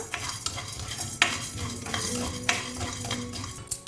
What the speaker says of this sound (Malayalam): ലോ ഫ്ലെയിമിൽ ലൈറ്റ് ഗോൾഡൻ കളർ ആകുന്ന വരെ ഒന്ന് റോസ്റ്റ് ചെയ്തെടുക്കാം